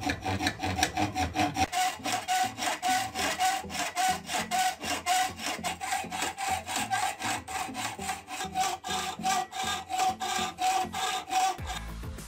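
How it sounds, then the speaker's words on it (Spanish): A small hand saw cuts the teeth of a leatherworking comb, giving a steady run of rapid, rhythmic back-and-forth rasping strokes, close and continuous for the whole stretch with no talking. "ahí los corté con la sierrita"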